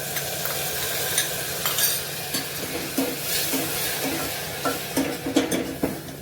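Onions sautéing in a pan for vada sambhar, a steady close sizzle of frying broken by the soft scrape and clink of a spoon stirring at irregular intervals.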